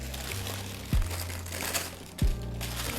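A wrapper is folded over oiled vegetables into a package, giving soft crinkling and a couple of brief crunchy rustles close by at low volume.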